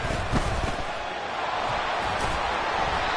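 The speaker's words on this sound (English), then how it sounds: "This crowd turning up the decibel level." A packed football stadium crowd roars loudly and steadily, a dense continuous wall of cheering and noise with no pauses.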